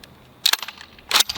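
Magazine locking into a Blackwater Firearms Sentry 12 shotgun: two sharp, close metallic clacks about three quarters of a second apart, with no talk.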